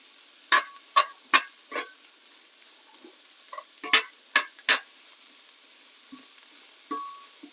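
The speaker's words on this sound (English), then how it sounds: "So we're going to drop all of our vegetables in. Just like that. I'm going to stir them around." Vegetables for steak fajitas are stirred in a hot pan, with a run of sharp utensil scrapes and clacks against the pan over a faint background sizzle, then quieter stirring toward the end.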